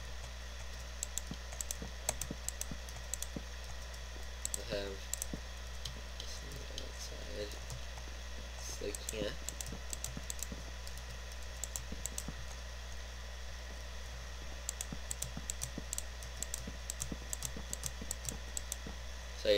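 Rapid keyboard typing and mouse clicks from a Minecraft session, close and crisp, in scattered bursts over steady background hum.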